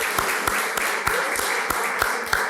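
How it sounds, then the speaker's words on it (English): An audience at a civic association academic achievement awards dinner applauds the caterers, steady close clapping with sharp individual claps standing out over a continuous wash. "how about we give a nice warm round of applause to a la carte catering for that wonderful meal this evening"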